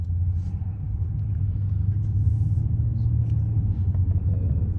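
Toyota Celsior V8 with only a centre straight pipe fitted, heard inside the cabin at cruising speed as a steady low rumble under road noise, continuous and without speech.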